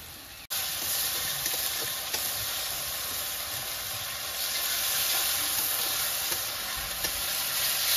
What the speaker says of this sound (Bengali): এরপরে দেবো আমি আদা বাটা